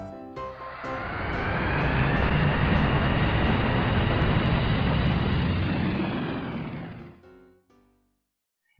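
A jet airliner roars down the runway for takeoff, the engine noise swelling to a loud, steady rumble with a rising whine, then fading away to near silence at the end.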